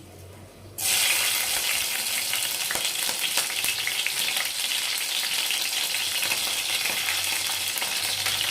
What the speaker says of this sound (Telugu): ఇలా ఎండుమిర్చి వేసిన తర్వాత పచ్చిమిర్చి కూడా వేస్తున్నానండి